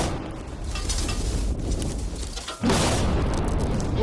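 A TNT blast blows up a safe with one sudden loud boom, then a broad roar of debris and rumble that holds on to the end of the clip.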